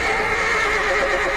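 A horse whinnies loudly and close in a Walking Dead episode, one sustained shrill neigh with faint hoof clops underneath.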